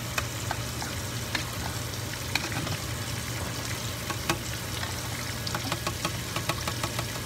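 Grits cook in a pan with a steady low bubbling sizzle, while scattered light taps from a utensil breaking up a clump sound throughout, fairly close and moderately quiet.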